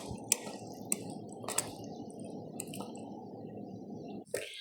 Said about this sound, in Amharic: የሚያስፈልገንን ውሃ እንጨምርና በደንብ አድርገን በዚህ እንመታዋለን ማለት ነው።